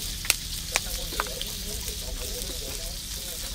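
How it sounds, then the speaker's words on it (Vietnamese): Food frying with onions gives a steady close sizzle, broken early by a few sharp clicks and pops, with faint voices in the background. "Sôi đã, xèo xèo lên."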